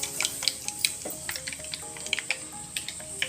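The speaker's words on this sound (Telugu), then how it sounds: "ఆ తిరగమాత అంతా తీసి మనం అరుగు మీద పెట్టుకున్న గోంగూర గిన్నె ఉంది కదా, ఇప్పుడు ఆ గోంగూరలో కుమ్మరిస్తుంది" Hot oil tempering poured into a bowl of gongura leaves sizzles and crackles up close, with a steady frying hiss, sharp spitting pops and a few faint clinks of the pan, and no talking.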